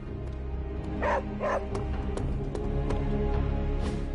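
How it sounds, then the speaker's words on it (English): A dog in the video game Midnight Suns gives a couple of short yips and barks, close and clear, over a steady bed of game music. "Hey, Charlie Warley puppy face"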